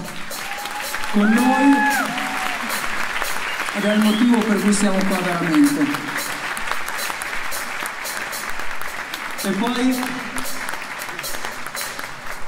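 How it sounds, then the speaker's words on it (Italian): Ongoing audience applause at a charity rock concert, a continuous bed of clapping heard beneath someone speaking over a microphone in several phrases, the crowd staying steady throughout. "Io vorrei un applauso infinito per Luca Guenna"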